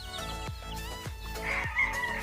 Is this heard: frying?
no